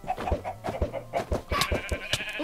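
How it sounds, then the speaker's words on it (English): Sheep in a video game barn let out a rapid series of short, nasal bleats, several animals overlapping close by with a steady choppy rhythm. "we've got some sheep"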